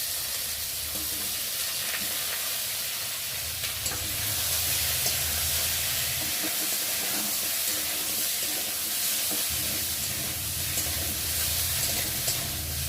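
Green chillies fry in hot oil alongside potato and brinjal pieces, giving a steady, close sizzle and hiss with occasional stirring scrapes throughout; no voices.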